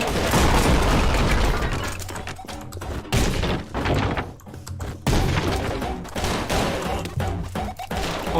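Video game gunfire rattles in dense, loud, continuous bursts of shots and impacts, with brief drops in between, filling the whole stretch without talk.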